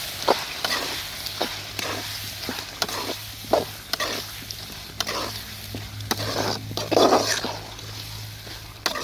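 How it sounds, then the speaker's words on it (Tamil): Shark fish and ground roasted masala fry in oil for a sirkazhi-style pickle, giving a steady close sizzle broken by repeated stirring scrapes and a few louder bursts. "எல்லாமே இந்த எண்ணெயிலே நல்லா வதங்கணும்"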